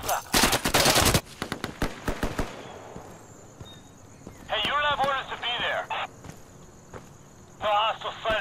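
Gunfire in the online shooter Insurgency: a loud burst of rapid automatic shots opens, followed by scattered single and distant cracks, while voices chatter between the shots.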